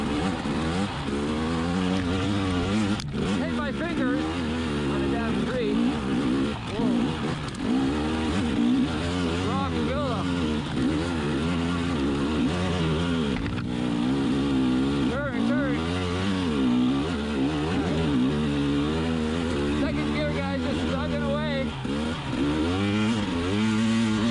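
A 2020 KTM 300xc TPI two-stroke enduro dirt bike engine runs steadily and loudly throughout, its pitch rising and falling as it revs and shifts through low gears on a ride.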